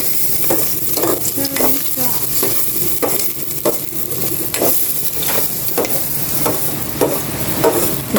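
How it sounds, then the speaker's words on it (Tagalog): Ginger sautéing in a pan with steady sizzling and repeated scraping stir strokes, close and continuous, with no voices. "Nagigisa na po tayo. Luya po muna yung natin."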